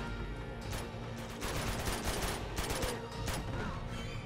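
Bursts of AK rifle fire crackle in the video game Uncharted 2, rapid clustered shots repeating over a steady background of game noise, fairly quiet overall.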